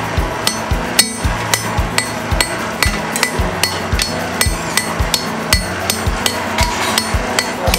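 Steady, ringing hammer strikes on hot metal as a blacksmith works, repeating at an even brisk rhythm, loud and close, each blow giving a bright metallic clang.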